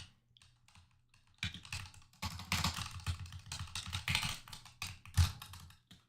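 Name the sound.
typing on a computer keyboard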